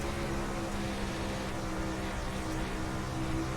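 Outlaw 360 sprint race cars on a dirt track at Knoxville, a continuous, dense engine roar with sustained high revs as the cars slide around the oval, heard from a moderate distance.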